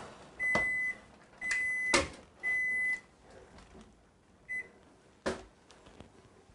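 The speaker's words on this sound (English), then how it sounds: "when our timer goes off" A kitchen timer beeps during candy making on a stove: three loud, even beeps about a second apart, then a shorter fourth, mixed with a few sharp knocks and clatters nearby.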